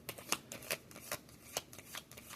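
A deck of cards is shuffled, giving quick riffling bursts of crisp flicks, with no talking.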